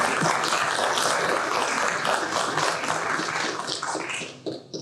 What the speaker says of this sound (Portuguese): Jean-Pierre Bianchi, respeitado músico, pesquisador e colecionador de instrumentos musicais, para quem dedicamos agora os nossos aplausos.